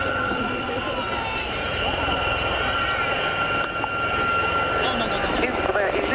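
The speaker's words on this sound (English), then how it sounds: "So in for their first manoeuvre, please welcome the 2024 Gazelle Squadron." Westland-built Gazelle helicopters fly a display at the RAF Cosford airshow, a steady, loud rotor and turbine drone with a sustained whine that holds throughout, under a public-address commentator's voice.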